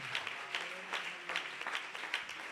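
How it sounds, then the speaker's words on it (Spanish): A church congregation applauds during an evening worship service, a thin, steady patter of clapping with a few sharper bursts and faint voices underneath. "¿Por qué no le da ese aplauso en esta noche?"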